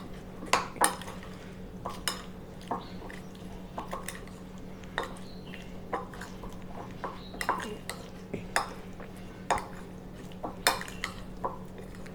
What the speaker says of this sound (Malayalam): ഇനി നമുക്ക് ഈ മസാല ഈ പനീറിലോട്ടൊക്കെ നന്നായിട്ടൊന്ന് മിക്സായി വരുന്നവരെ ഇതുപോലൊന്ന് മിക്സ് എടുക്കാവേ.